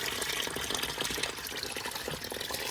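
Fluid drains out of a Nissan 350Z engine bay during motor removal, a steady, faint splashing trickle of liquid running out with no one speaking.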